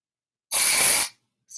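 A single half-second burst of hissing spray from an aerosol can, loud and close, cutting off sharply, followed by silence and the start of a second short burst.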